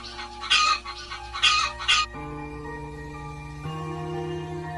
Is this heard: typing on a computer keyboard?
no